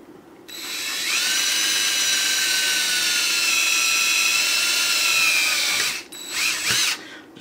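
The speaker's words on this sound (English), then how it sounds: "we're going to drill this first hole" A power drill bores a hole through a vehicle heat shield, a loud steady whine that holds for about five seconds and then sputters off as the bit breaks through, with no one talking.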